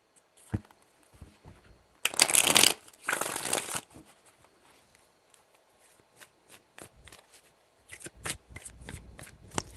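Tarot cards are shuffled by hand in bursts, with a loud riffling run in the middle followed by lighter taps and card handling; no one speaks.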